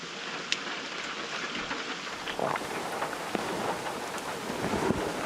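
Heavy rain pours steadily in thick bush in Botswana, a dense continuous hiss with scattered drops and faint distant rumbles, no voices.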